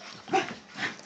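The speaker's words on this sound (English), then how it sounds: "The dog is playing." A toy or miniature poodle at play gives two short, close whimpering yips about half a second apart over a low background hiss.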